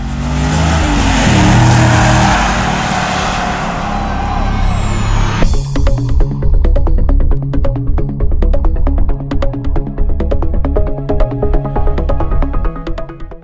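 A 2012 Chevrolet Camaro SS 45th Anniversary's powerful engine roars as the car accelerates hard, then revs rise and drop in loud, rapid bursts through gear changes.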